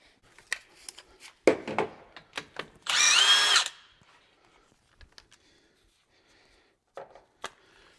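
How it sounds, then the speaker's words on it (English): An impact wrench on the axle of a 4Runner fitted with an air locker, one short loud whirring burst among scattered clinks and knocks of parts and tools, with no talking. "I think most of these I can hit with an impact."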